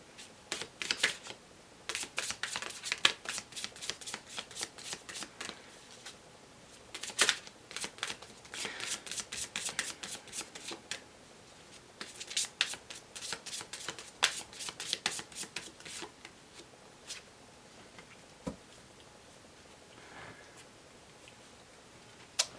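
Law of Attraction oracle cards are shuffled close by in repeated rapid riffling bursts with short pauses between them, and a few faint taps follow toward the end.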